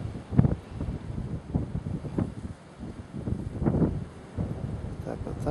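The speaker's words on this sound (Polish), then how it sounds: "tylko jest bardzo silny wiatr" Strong wind gusts in uneven bursts, thumping and rumbling against the microphone with a hollow rushing roar between gusts.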